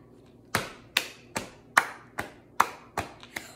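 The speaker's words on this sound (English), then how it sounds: "And all you have to do is clap." Single hand claps land one by one at a steady, even pace, about eight crisp, close claps keeping time for a children's song, with no voices over them.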